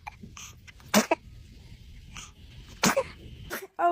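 Several short, sharp baby sneezes burst out in a cluster near the start, followed by another pair and a final one at the end, loud and close against a quiet indoor background.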